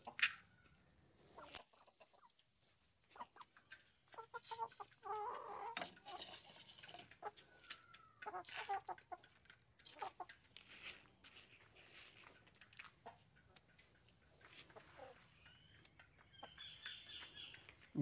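Backyard chickens around a house cluck softly and sporadically while being fed, short scattered clucks and scratching sounds over a quiet outdoor background with a faint high insect drone.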